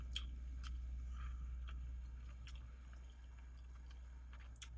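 Quiet, close chewing of Trader Joe's beef bulgogi fried rice with kimchi, the plain rice eaten alone: soft, moist bites and faint squishy mastication in short bursts, with no talking.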